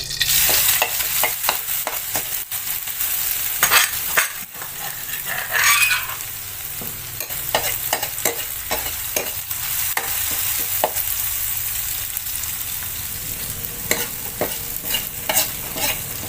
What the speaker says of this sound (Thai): จียวกระเทียมมือหอมเลยครับ